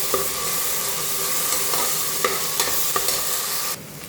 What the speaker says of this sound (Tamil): இஞ்சி பூண்டு போட்டு வதக்கலாம்